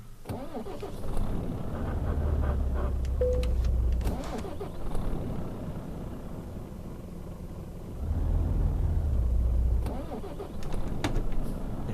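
DAF XF truck in Euro Truck Simulator 2 setting off in ninth gear, a steady mid-pitched engine drone with two louder swells of strain, continuous and close throughout.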